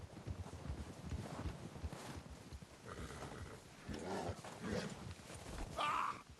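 Horse hooves in the video game Red Dead Redemption 2 while riding with a gang, a faint, irregular clip-clop of hoofbeats mixed with soft rumbling and brief snorting noises.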